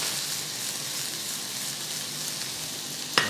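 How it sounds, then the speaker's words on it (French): Onions sweating gently in a pan while cooking down to release their water for a Zurich-style veal sauté, a soft continuous sizzle with a small clink near the end, no talking. "on va laisser compoter nos oignons une bonne quinzaine de minutes, qui rendent leur eau de végétation"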